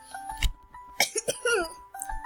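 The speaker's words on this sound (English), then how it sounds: "I've got a cold, so I'm gonna cough a lot." Several short, close coughs come in quick bursts over quiet background game tones, one rougher and more drawn out than the rest.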